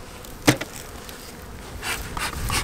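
Honey bees buzz in an opened winter hive colony, a steady close drone with one sharp knock near the start and the buzzing swelling louder toward the end.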